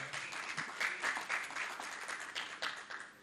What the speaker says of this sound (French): On l'acclame.